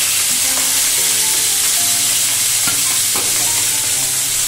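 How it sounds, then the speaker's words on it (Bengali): Rohu fish frying in a pan for a Bengali fish curry, a loud, dense crackling sizzle throughout with the clink of stirring and utensil taps over it. "রুই মাছটা ভাজা হোক"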